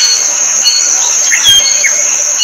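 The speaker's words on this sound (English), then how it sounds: "You hear the birds, the subtle water sounds, and even the rhythmic drum hits far in the background" AI-generated nature ambience plays as a loud, steady high-pitched insect-like buzz with scattered bird chirps on top and no voices.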